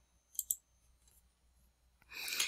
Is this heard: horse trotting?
no